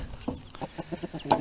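Free-range homestead chickens let out to mingle and graze cluck close by in a quick, rhythmic run of short calls.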